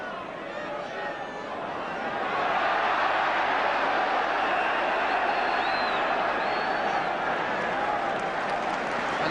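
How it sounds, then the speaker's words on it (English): Football crowd applauding as the half-time whistle goes at a Spurs match, a broad wash of clapping and crowd noise that swells after two seconds and holds steady, with commentary voices under it. "the whistle goes for half-time, and the applause speaks for itself"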